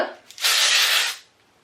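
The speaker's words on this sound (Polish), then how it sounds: "pokażę Wam spray teksturyzujący, który spryskamy, kiedy na przykład wysuszymy włosy" A texturizing hair spray is released in one close, loud burst of about a second of bright hiss, with softer handling noise just before and a quiet fade after.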